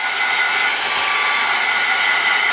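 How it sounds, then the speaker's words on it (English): A heat gun blasts steadily to dry wet, squeezed seam binding, a loud continuous airy roar with no talking over it. "you can take your heat gun to it right now"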